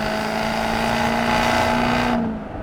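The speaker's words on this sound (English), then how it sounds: "This 5-litre supercharged V8 sounds mega, has heaps of torque to pull you out of the tightest corners, revs hard." A Jaguar SV Project 8 with a supercharged 5-litre V8 drones loudly past on the Sandown Raceway circuit, holding a steady high-revving tone before cutting off abruptly near the end.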